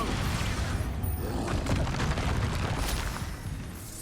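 Expulso explosion spell in the video game Hogwarts Legacy, a dense continuous booming rumble with crackling bursts layered over it, loud and sustained throughout.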